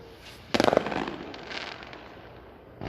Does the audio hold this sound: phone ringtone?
no